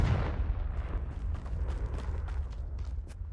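A Confringo explosive spell goes off in a wizard video game, a loud, deep rumbling blast that rolls on steadily with crackling bursts for several seconds.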